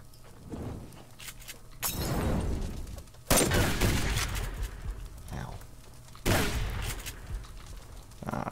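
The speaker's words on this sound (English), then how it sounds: "With their rifles and blasty weapons." Enemy rifle fire in the video game Subsistence comes as three loud, rolling bursts of gunfire with echoing tails over a noisy outdoor backdrop. A voice talks between the volleys.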